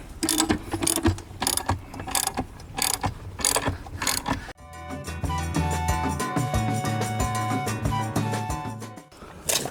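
Cranking the outboard motor on a 1958 Starcraft Jet-Star boat: about four seconds of quick, evenly spaced mechanical clicks and pulls, followed by a sustained, steadier tonal drone. No talking.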